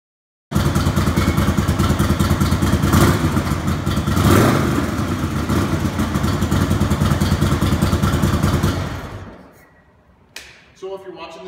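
A 2007 Harley-Davidson Electra Glide Classic with aftermarket air intake and pipe idles loudly and steadily up close with a deep, lumpy rumble, blips briefly, then shuts off near the end, leaving quiet handling sounds.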